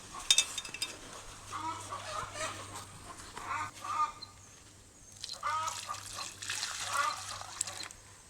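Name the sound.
hens clucking in garden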